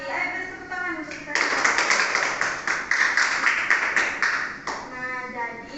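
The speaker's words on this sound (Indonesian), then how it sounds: "Ayo beri tepuk tangan untuk kita" Classroom applause in an Indonesian teaching-practice social studies lesson: a dense burst of many hands clapping together for several seconds, loud and close, with a teacher's voice before and after.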